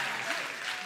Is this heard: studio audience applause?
yes